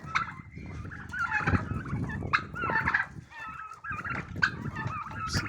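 A flock of hungry turkeys and chickens gobbling and clucking up close, busy overlapping calls in irregular bursts without any speech.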